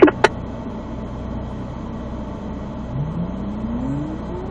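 A Corvette Z06 Ron Fellows edition launches into an autocross run, opening with a couple of sharp clicks. Its engine note then rises steadily and stays fairly faint, heard from a distance over background noise.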